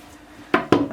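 A knife cuts through soft, fresh cold process soap made from a Bastille recipe rich in olive oil, giving two sharp, close knocks in quick succession with no voices.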